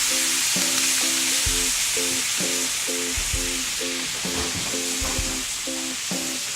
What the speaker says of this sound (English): We're going to be putting the meat in the skillet after we heat the skillet up.